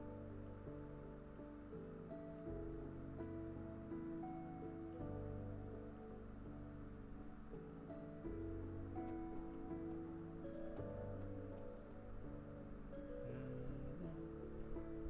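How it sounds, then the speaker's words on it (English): Rain falling in Minecraft, a soft continuous hiss with faint layered tones underneath, steady and fairly quiet throughout with no speech. "Why is it raining again, man? We just got done with some rain."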